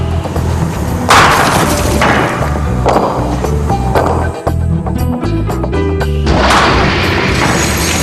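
A heavy bowling ball of more than 7 kilograms dropped onto a single pane of glass, giving loud repeated booming thuds and crashing impacts with a sharp break in the middle, all fairly close and without talk.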